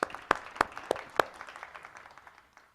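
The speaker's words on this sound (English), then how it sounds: "This is a good time to clap." Sparse audience clapping at an inclusive-education talk: a few loud, sharp claps near the front ring out among softer scattered ones that trail off within about three seconds.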